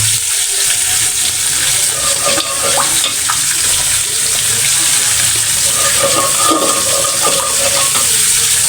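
Water pours into a spiced curry of brinjal and koi fish, making a continuous rushing, bubbling hiss that stays loud and even throughout.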